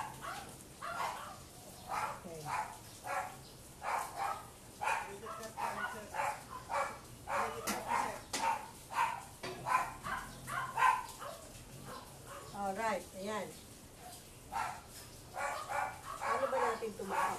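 A dog barks repeatedly in short, rhythmic bursts with a few yips mixed in, moderately close, while a person talks over it throughout.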